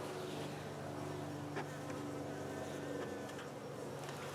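Honey bees hum around an open hive during a quick check, a faint continuous drone with occasional louder passes of single bees close by.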